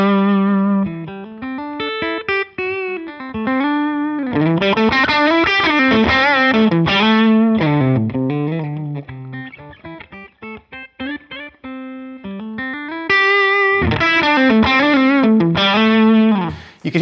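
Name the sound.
electric guitar through Line 6 Helix Matchstick Channel 2 amp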